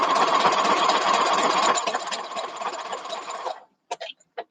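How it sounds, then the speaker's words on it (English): A sewing machine stitches along a drawn line on a quilt block, running steadily and close for several seconds, then stopping, followed by a few brief clicks and knocks. "sewing along your line, your drawn line"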